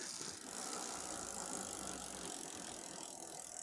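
The rear hub of a Giant Tracker Sport 32 bicycle freewheels after the wheel is spun, giving a fast, steady ratcheting buzz of pawl clicks, close and unbroken.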